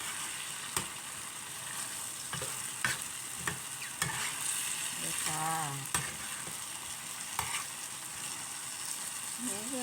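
Vegetables and egg stir-fry in a hot pan, a steady loud sizzle broken by repeated scraping strokes of a spatula, close up throughout.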